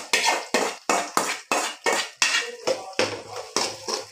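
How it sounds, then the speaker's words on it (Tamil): Ground tomato being stirred into a cooking pan produces a regular series of about ten sharp metal spoon knocks against the pan, close and fairly loud, each followed by a short wet scrape, with no speech. "லைட்டாக கலக்கி விட்டுக்கலாம்."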